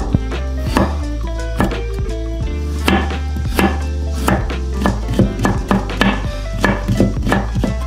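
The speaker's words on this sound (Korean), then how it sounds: "곱게 채썰다 무칠 거예요." A knife finely julienning vegetables for a namul side dish taps steadily on a cutting board, with rapid, evenly spaced chops close up and no talking.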